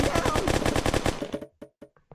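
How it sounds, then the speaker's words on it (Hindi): Rapid bursts of toy-like gunfire in the video game Kick the Buddy rattle in a fast stream, then slow to a few separate shots before stopping. "गोलियां आएगी, खिलौने वाली,"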